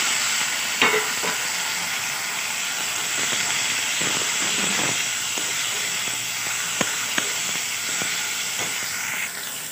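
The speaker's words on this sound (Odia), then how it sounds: "ପିଆଜ ହେଇଗଲାଣି, ଏବେ ଟମାଟୋ ଫିଟେଇଦେବି।" Steady, close sizzling and hissing of onions and tomatoes frying with spices in a pan, broken by occasional light clinks and scrapes of stirring, with no talking.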